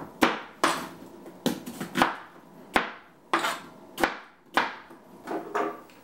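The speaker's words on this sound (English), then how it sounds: "we'll go to work on the onions. We're going to need a few onions and a few carrots. I'm using white today. And we just have to be coarse chopped here." White onions coarse chopped with a knife on a cutting board: a series of sharp, close blade strikes landing in an uneven rhythm, about a dozen chops alone with no talk.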